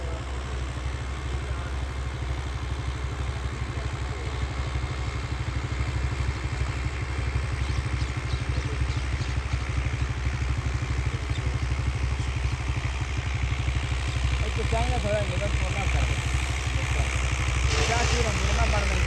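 A New Holland 850 tractor engine runs steadily in a farm field while pulling a plough, a continuous mid-pitched throbbing drone at moderate distance, with people talking over it.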